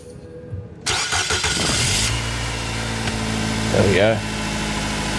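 A car engine, recorded by a microphone inside the engine bay, cranks and catches, then settles into a steady idle close by, with someone briefly speaking over it.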